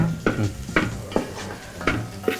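Kerala-style beef fries in a pan while a spatula stirs it, giving about five sharp, evenly spaced scraping strokes over a low sizzle, close and clear with no talking.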